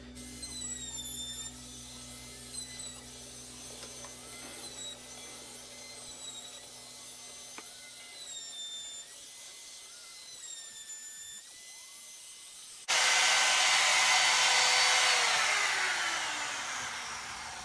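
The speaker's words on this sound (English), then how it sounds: "it trims off the excess laminate" A high-pitched laminate trimmer whines steadily, then a sudden louder rough burst as it cuts off excess laminate, gradually easing off near the end.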